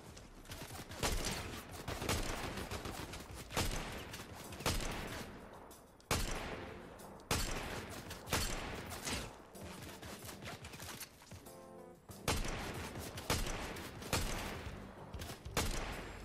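Bursts of gunfire in the Fortnite video game, repeated rapid volleys of shots in clustered bursts with short gaps, loud and close, with no talking.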